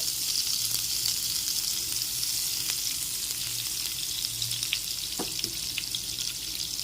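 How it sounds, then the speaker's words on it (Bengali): Butter sizzles steadily in a hot pan that has just held fried paneer for shahi paneer, a continuous close frying hiss with faint crackles throughout and no talking. "এবার আমি এর মধ্যে দিয়ে দিচ্ছি বাটার। বাটারটা একটু গলিয়ে নিতে হবে।"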